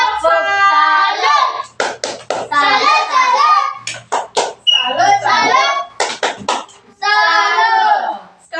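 Children's rhythmic 'tepuk salut' clap cheer in an Indonesian classroom: short bursts of patterned hand claps break up children's chanting and speech, close and fairly loud.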